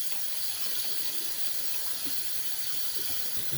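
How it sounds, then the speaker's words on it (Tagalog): Tap water runs in a steady, even stream onto an aloe vera leaf being rinsed at a sink, a constant close hiss with no breaks. "Hugasan siya natin ng running water."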